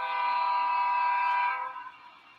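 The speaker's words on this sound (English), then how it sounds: "Even this little caboose train, guys, is very taxing on these locomotives." Horn on a model railway locomotive of the PRR line pulling a caboose parade: a steady, chord-like tone held for about a second and a half before fading away, close by and alone.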